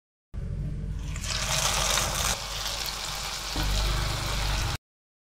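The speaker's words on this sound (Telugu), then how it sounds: "ప్యాన్ ని స్టవ్ మీద పెట్టేసుకుని సరిపడా ఆయిల్ యాడ్ చేసుకుని ఆ బెండకాయలను నూనెలో వదలటమేనండి" Okra bajji fritters frying in a pan of hot oil give off a steady, dense sizzle that runs unbroken from start to finish and shifts slightly in level partway through, with no voices.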